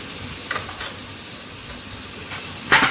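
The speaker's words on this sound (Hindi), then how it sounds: "अब इनको धीमी आंच पे अच्छे से भून लेंगे और इसे तब तक भूनना है जब तक टमाटर नरम नहीं हो जाते।" Tomatoes with green chili, coriander powder and garam masala sauté in a pan for a vegan coconut curry, a soft continuous sizzle broken by short hissing bursts and stirring scrapes.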